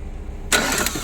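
Tata Ace Gold BS6 diesel engine cranks and catches abruptly halfway through, jumping from a low background hum to a loud, close running roar.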